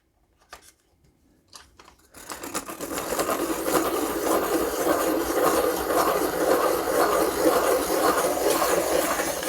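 A pencil of recycled cedar slats is turned in a deli-style crank sharpener: a few faint clicks, then a steady, close grinding rasp that keeps going without a break.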